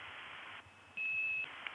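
A single short 2600 Hz whistle-off tone sounds on a telephone line during early-1980s phone phreaking, a steady pure pitch lasting about half a second over faint line hiss and low hum.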